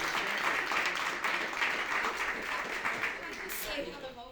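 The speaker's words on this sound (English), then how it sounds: "Can we get a round of applause for the panelists?" Panel debate audience applauding the panelists with dense, steady clapping that fades slightly toward the end, heard at moderate distance in a hall.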